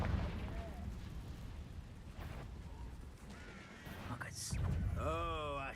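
Confringo fire spell blasts in Hogwarts Legacy as a sustained, rumbling burst of fiery energy, followed by a voice speaking near the end over the continuing roar.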